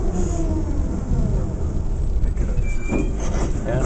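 A Prague tram rolls past on the Řepy line, a loud, steady rumble of wheels on rails with faint metallic squeals, heard up close.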